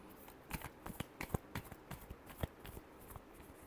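Tarot cards are shuffled by hand in quiet, irregular flicks and soft taps, close and alone.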